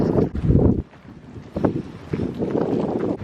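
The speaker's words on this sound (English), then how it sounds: "Very windy. Very rainy." Gusty wind buffeting the microphone in heavy rumbling bursts that rise and fall, loud and close, in wind and rain at Linacre Reservoir.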